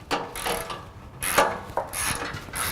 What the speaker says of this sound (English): Can you hold the wrench on the inside of the nut?